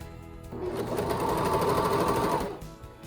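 Sewing machine stitching a scrub cap, a steady close whirring run of about two seconds that starts and stops cleanly, with no talking.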